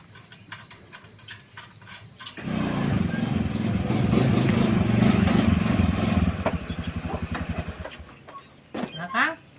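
An old, beat-up motorcycle engine starts and runs with a rough, rattling idle for several seconds, then cuts off, near and fairly loud, with voices before and after.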